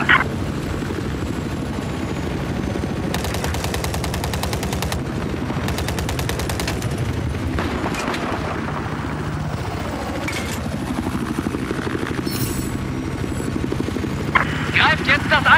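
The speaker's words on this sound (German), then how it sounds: "Nördlich deiner Position feindlicher Helikopter." Enemy helicopter in a German-language military shooter video game, a steady rotor drone running throughout, punctuated by bursts of rapid machine-gun fire and scattered gunshots, with game voices heard over it.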